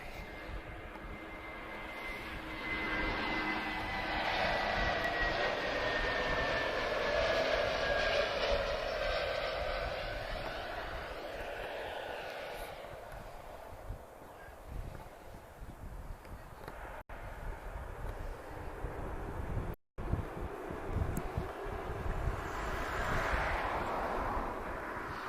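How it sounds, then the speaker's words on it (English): An Airbus A321 taking off or landing at Lisbon Airport gives a long, loud jet engine roar that builds and then slowly fades as the aircraft moves away. "I believe it's an A321."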